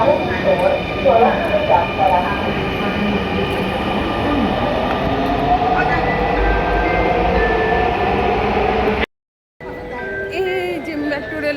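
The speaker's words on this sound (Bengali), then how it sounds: "এই যে মেট্রো রেল স্টেশন।" A Dhaka metro rail train rumbles and hums loudly at a station, with squealing wheel tones and rising and falling motor whine. It cuts out briefly near the end before resuming. Voices talk faintly underneath.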